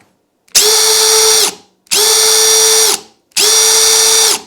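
Milwaukee M18 Fuel brushless 1/2-inch hammer drill in drill mode, three bursts at full trigger, each a steady high whine that starts instantly and stops abruptly, with short silences between.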